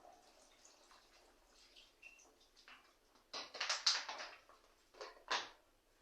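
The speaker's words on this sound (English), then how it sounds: "I'm just going to add a little bit more water" Water pours into a pot of simmering Spanish chicken soup broth, a short splashing burst midway with a brief second splash after, amid quiet kitchen sounds.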